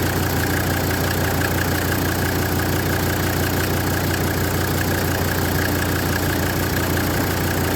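A Mercedes W123 300D diesel, parked for twenty years, idles loud and close with a steady low rumble and the rhythmic diesel clatter of its engine, unbroken for the whole stretch and with no voices.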